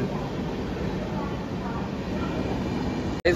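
Inside a moving train, a steady, loud rumble and rattle of wheels on the track drones on without pause, with faint voices mixed in.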